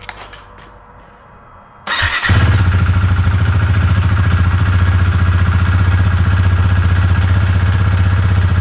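A Husqvarna Svartpilen motorcycle fitted with a KTM LED flasher relay starts up after quiet clicking, then settles into a loud, steady idle with a fast, even engine pulse that runs to the end.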